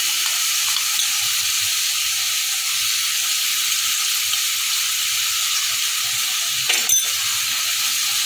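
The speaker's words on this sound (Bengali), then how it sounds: "এবার ডিম আর চিংড়ি এর মধ্যে দিয়ে দিচ্ছি।" Egg and prawns fry in a hot pan for chilli garlic noodles, a steady close hiss of sizzling oil with a brief clatter near the end.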